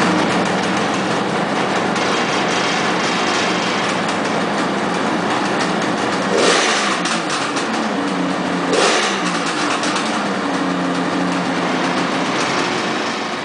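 A Kawasaki H2 motorcycle from the early 1970s with its engine revving, a loud rough continuous drone rising into two sharper throttle blips, heard close and without talk.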